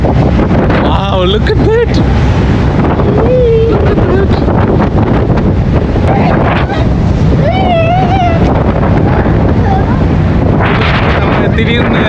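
Strong wind roars steadily across the upper deck of a ferry at sea, buffeting the microphone with loud, constant noise throughout while people talk over it.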